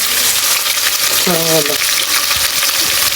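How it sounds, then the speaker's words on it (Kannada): Onions for egg biryani fry in a pan with a steady, close hissing sizzle throughout, interrupted by a short tonal squeak or voice-like sound near the middle. "ಇವಾಗ ಈರುಳ್ಳಿ ಹಾಕ್ಬಿಟ್ಟು ಇದು ಒಂದು ಸ್ವಲ್ಪ ಬ್ರೌನ್ ಕಲರ್ ಬರೋವರೆಗೂ ಹುರ್ಕೋಬೇಕಂತ"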